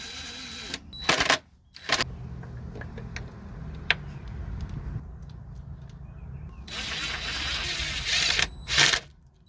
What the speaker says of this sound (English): I'm wrench to tighten that baby down